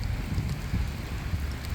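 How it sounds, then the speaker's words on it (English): Steady rain falls outdoors on a city street in Chicago, a dense close hiss of drops mixed with gusty wind noise against the microphone, with no voices. "So I am now almost completely drenched by the rain."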